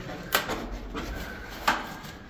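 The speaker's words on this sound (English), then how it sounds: "We've got a little door here." A small wooden door on a timbered platform at the top of a gold mine raise is handled, giving two sharp knocking clacks about a second apart with a softer bump between them, close and moderately loud.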